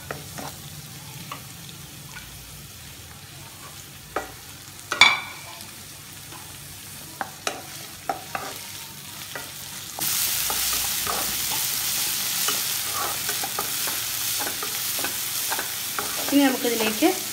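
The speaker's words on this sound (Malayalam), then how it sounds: "ഇഞ്ചിയും ഒന്ന് ചതച്ച് വെച്ച വെളുത്തുള്ളിയും കൂടി ചേർത്ത് കൊടുത്ത് നന്നായി വഴറ്റിയെടുക്കാം" Onion, crushed ginger and garlic sauté in a hot pan, with a steady sizzle and repeated scrapes and clinks of a spoon stirring. The frying grows louder and brighter in the second half.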